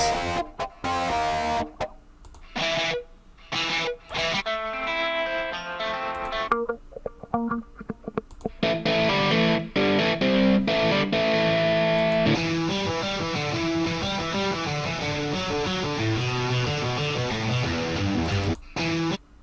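Distorted electric guitar riffs from a Komplete 14 software instrument play in choppy bursts at first, then settle into a continuous driving pattern, loud and close with no voices.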